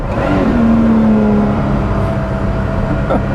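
A Lotus Exige Sport 390 Final Edition engine accelerates loudly on the move, a steady whirring drone with a rising tone, heard close from inside the car without speech.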